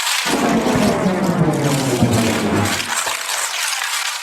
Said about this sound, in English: together you have a very atmospheric thunder